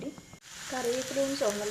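Curry leaves and shallots dropped into hot oil with popped mustard seeds for a Kerala dry fish and raw banana curry tempering, sizzling steadily close by while a voice talks over it.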